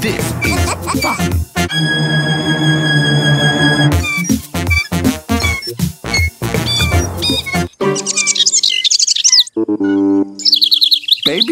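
The cartoon Baby Bird from Pocoyo chirps in a rapid, busy string of high, bright tweets, loud and close, over playful cartoon music and sound effects.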